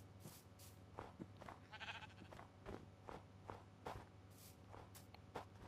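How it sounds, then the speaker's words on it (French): Faint, distant Minecraft sheep bleat once amid soft, regular shuffling footsteps in the video game. "On a des moutons."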